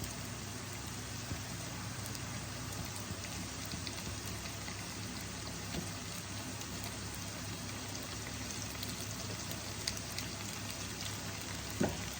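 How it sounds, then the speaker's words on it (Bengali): Mutton pieces are sautéed together in a pan for a simple curry, giving a low, even frying hiss with a few faint clinks, steady and quiet throughout. "মটনগুলোকে দিয়ে একসাথে কষাবো।"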